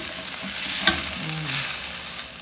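Garlic fried rice is stirred in a hot frying pan, giving a steady close sizzle with soft scraping strokes and one brief clink of the utensil partway through.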